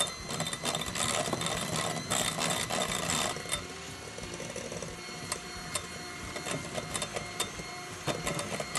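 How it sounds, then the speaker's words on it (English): An electric mixer whirs steadily as it beats Japanese cotton cheesecake batter until light and fluffy, loud and busy for the first few seconds and then a little softer, with no talking. "Beat those together until they're light and fluffy."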